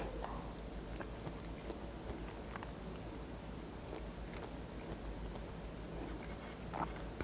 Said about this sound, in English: I really hope the chewing sound is not going to irritate you guys